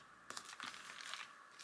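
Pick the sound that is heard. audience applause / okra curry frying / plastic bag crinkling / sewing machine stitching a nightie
plastic bag crinkling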